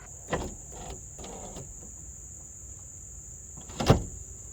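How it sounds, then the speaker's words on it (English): Door glass on a 1994 Dodge Dakota being pushed up by hand, with two short scraping bursts near the start and a louder scrape near the end, under a steady high-pitched whine. "I just have to hold back on this part of the glass in order to put the window up"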